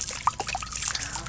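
A water spray bottle mists solution onto hair in a few quick soft hissing spritzes, close and quiet against faint background noise.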